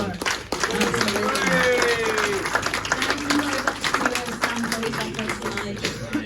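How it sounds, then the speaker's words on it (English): A press-conference audience at a Belle Vue Colts versus Leicester Lion Cubs speedway meeting gives a speedway rider a round of applause, steady clapping sustained for several seconds with some background voices mixed in. "I think he deserves a round of applause as well"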